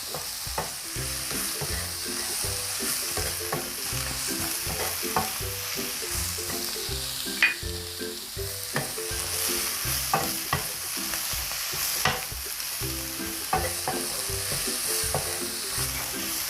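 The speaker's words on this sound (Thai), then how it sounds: "แครอทจะสุกยากเอาลงไปผัดเลยนะคะ" Carrots are stir-fried in a pan with a spatula, scraping and tossing in quick repeated strokes over a continuous close sizzle, with no talking.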